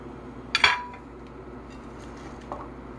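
Sliced potatoes and carrots tumble into a frying pan for beef soup, giving one sharp clattering clink, a short settling rustle and a faint later tap against a quiet kitchen background.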